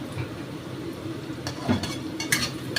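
Eggplant frying in a pan with asafoetida, five-spice seeds and green chillies, a steady low sizzle with occasional soft clinks of a utensil stirring, close and moderately quiet, no voices.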